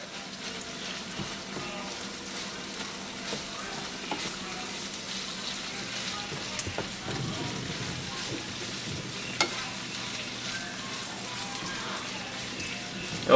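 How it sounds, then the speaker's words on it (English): Cabbage simmering in a pan with sautéed corned beef, a steady soft sizzle and bubbling with faint occasional clinks, continuous and moderately close with no talk. "we're going to add the cabbage. And let that simmer for a bit."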